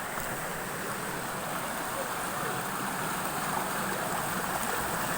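A clean river flowing over stones, a steady broadband rush of water that stays even and continuous throughout.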